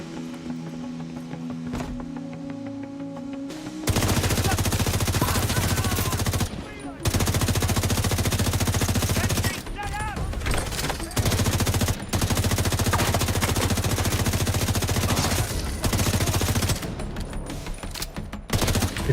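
Loud, sustained machine gun fire in The Division's Brooklyn setting: long rapid bursts with brief pauses between them, close and dominant over faint background sound.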